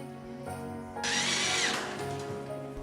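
Power drill whirring in a theatre setting, a steady hum with a sharp high-pitched spin-up in the middle, moderately close with no talk.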